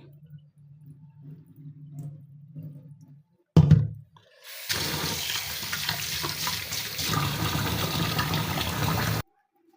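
Raw prawns are rinsed under running water to wash off curd. After a few soft splashes and a short clatter, a steady stream of tap water pours and splashes for several seconds, then stops abruptly.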